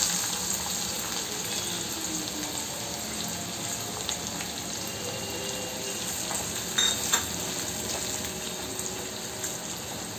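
Onions frying in oil after a cumin tempering, a continuous close sizzle with occasional spatters and a few louder stirring clicks, no voices.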